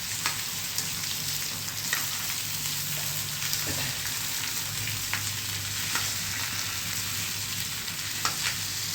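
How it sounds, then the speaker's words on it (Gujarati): Potatoes fry in a tempering of oil with dried red chillies, curry leaves and green chillies, giving an even, dense sizzle like steady rain, with a few faint stirring clicks. No one speaks. "વઘારી દઉં બટેટા"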